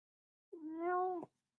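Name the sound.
cat meowing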